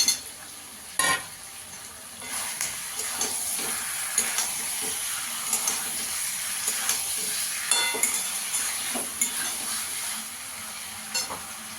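Fried potatoes tossed into a pan of sautéed kohlrabi, with a constant close sizzle and hiss broken by sharp clatters and scraping stirs of a spatula against the pan, no voices.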